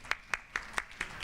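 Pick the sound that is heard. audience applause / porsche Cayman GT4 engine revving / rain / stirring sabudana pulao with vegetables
audience applause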